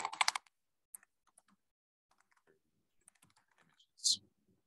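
Typing on a computer keyboard, a quick close burst of key clatter at the start followed by sparse light taps and a final louder click, in a quiet room.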